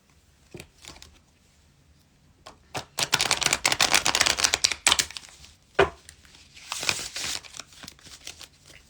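A deck of cards is shuffled during a tarot-style reading, with sparse soft flicks at first, then a dense run of riffling card snaps, a sharp slap, and a second shorter burst of riffling near and clear.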